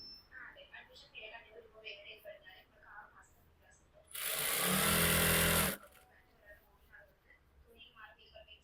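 A sewing machine stitches a half-inch seam on a Patiala salwar in one loud, fast whirring run of about a second and a half, with someone talking before and after.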